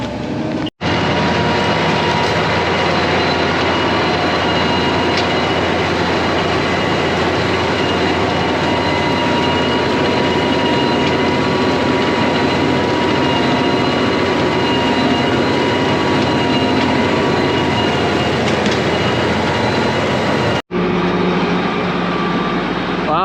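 A manure pump runs loud and constant, a dense unbroken mechanical roar with a steady engine drone that carries on for about twenty seconds, briefly dropping out near the start and again near the end.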